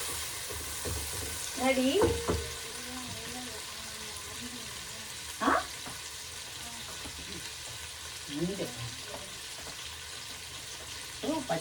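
Tomatoes frying in a pan for mutton biryani, with a steady sizzle and stirring scrapes running throughout and a few louder clanks, while a voice speaks briefly over the cooking.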